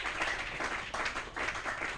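A church congregation claps and cheers in worship, rising in swelling waves with brief dips between them, fairly close and busy throughout.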